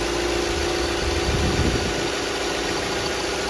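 A 2007 Cadillac SRX engine idles steadily while the car sits on a jack with the air cleaner off and a worn belt tensioner, a low even hum with a slight swell midway and no talking.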